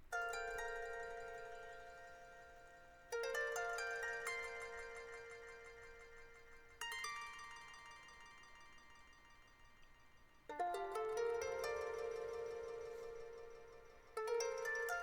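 Atmospheric synth texture from the Arcade Rejuvenation bank, soft bell-like chords struck four times and left to decay slowly, quiet and airy with no voices.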